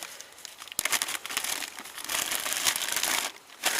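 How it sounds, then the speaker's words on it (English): Plastic Ziploc bag crinkling as a ball of onion bread dough is slid inside, a close run of crisp rustles and crackles with a sharp crunch near the start, continuing unevenly before one last burst. "Then what I'm going to do is just slide that into a Ziploc bag"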